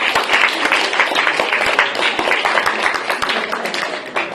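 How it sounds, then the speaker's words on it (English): Lively round of applause from a small audience closing a Toastmasters club annual general meeting, fairly near, with sharp individual claps standing out, and no talk over it. "Let's give yourself a big round of applause"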